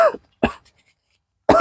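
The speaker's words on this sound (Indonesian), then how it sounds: "Ini kok malah batuk-batuk." A pregnant woman coughs three times, short sharp bursts close to the mic, separated by silence, the last one louder.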